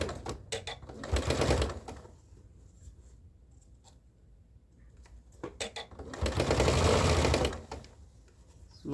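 A sewing machine stitches a seam on a Butterick 6942 top, running in two steady buzzing bursts with short pauses and light fabric handling between them, close and clear.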